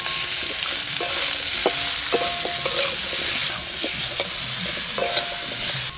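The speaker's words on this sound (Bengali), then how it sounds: "সব আমগুলো একটু ভালো করে নেড়ে নিয়েছি।" Mango pieces with turmeric and five-spice seasoning are stirred in hot mustard oil over a village clay stove. The oil sizzles loudly and steadily, with scraping spatula strokes throughout and no speech.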